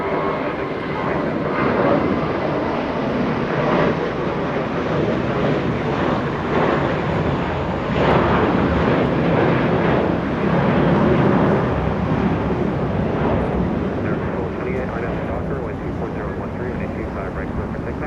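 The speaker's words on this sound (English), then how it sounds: "we have a south departure for KLM" A KLM airliner departs to the south at Los Angeles International Airport, its jet engines roaring loud and sustained for many seconds with gusty wind noise, while a voice talks over it at times.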